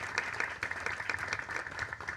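Audience in a congress chamber breaks into applause, a dense and steady clapping that holds without a break throughout.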